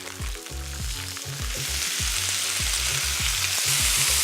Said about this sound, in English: I'm going to add my shallots, my butternut squash